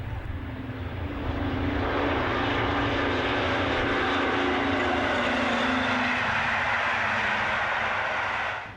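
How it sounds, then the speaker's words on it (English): A British Rail Deltic diesel locomotive's loud throbbing exhaust roar, from a two-stroke engine with 36 pistons in a triple V, builds quickly and holds steady for several seconds before cutting off near the end. "The Deltic's very distinctive exhaust sound came from the 36 two-stroke pistons arranged in a triple V formation"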